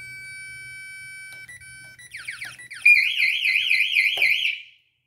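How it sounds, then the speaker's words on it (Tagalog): A home security alarm, just after someone enters the house, gives a run of steady electronic beeps. It then jumps into a loud, fast warbling siren that cuts off abruptly near the end. "kailangan na naman nating pindutin ang alarm dahil magtutunog yan"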